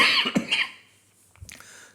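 A man coughs loudly several times in quick succession, close to the microphone, then a softer throat-clearing follows after a brief pause.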